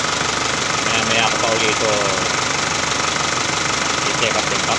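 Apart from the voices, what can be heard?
engine running after a check-up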